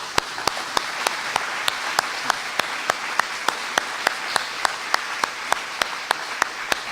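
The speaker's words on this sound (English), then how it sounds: "I always like to end this event with applause for both candidates" Audience applause for both mayoral candidates at the end of a community forum, a light steady clapping with one sharp clap standing out in a regular rhythm over softer scattered claps throughout.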